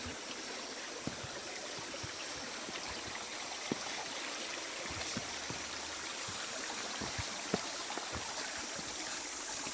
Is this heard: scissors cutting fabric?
no